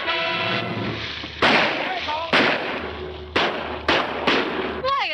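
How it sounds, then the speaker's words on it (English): Gunshots ring out in a 1940 film scene, five loud, sharp cracks spaced about a second apart over a background of music, with a voice briefly heard between them. "Why are they shooting at him?"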